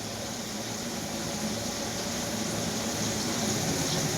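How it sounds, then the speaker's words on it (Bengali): A kitchen chimney exhaust hood runs with a steady, fairly loud broadband whoosh of fan and air that stays unchanged throughout, with no other sounds. "চিমনি চলছে, চিমনির আওয়াজ"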